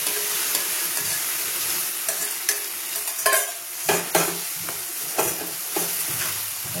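Fried prawns sizzling in a pan while being stirred for a gati kochu dal, continuous frying hiss broken by several sharp scraping clanks of the spatula, no voices.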